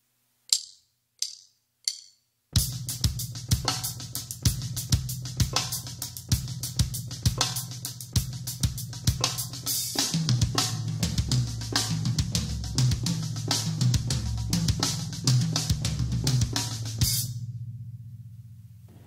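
A drum kit plays a 3/4 groove with a four-bar fill, opening with a few sparse hits before a dense run of rapid strokes over cymbal wash and booming low drums, then stopping abruptly.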